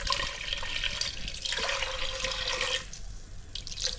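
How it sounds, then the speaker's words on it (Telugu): Half a litre of water poured into a cooking pot for jaggery rice payasam, a steady splashing stream running nearly throughout, close and moderately loud, with no talk. "1/2 లీటర్ పోతున్నాం నీళ్ళు."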